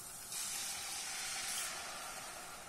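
Water poured onto fried tomato paste in a hot pan sets off a loud, steady hiss of steam and spitting that starts suddenly and holds for a couple of seconds, with no talk.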